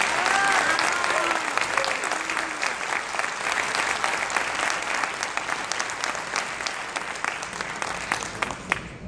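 Sustained, dense applause from a large audience at the closing and awards ceremony of a national mediation congress, honoring magistrates; steady and loud throughout, with a few voices faintly mixed in.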